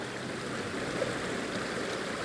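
A river runs past mossy banks, its flowing water a steady, even rush that fills the scene without pause.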